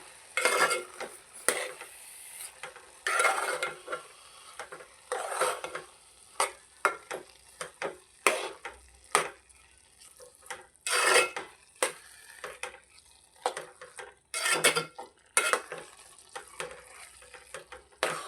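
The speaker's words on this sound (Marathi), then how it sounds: "आता आपण साखर आहे ना मिक्स करून घेऊया." Sugar is stirred into carrot halwa in a pan, a spoon scraping and swishing through the thick mixture in repeated strokes with a faint sizzle underneath, close and steady without any talk.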